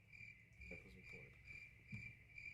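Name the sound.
crickets chirping sound effect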